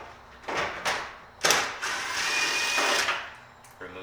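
A ratchet or small power tool works on a 10mm bolt on the side of a 2008-2012 Chevy Malibu headlight, giving several short whirring bursts of close mechanical buzzing separated by brief pauses.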